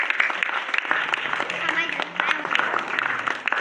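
An audience claps in a dense, uneven burst of applause with some voices underneath, fairly close and continuous.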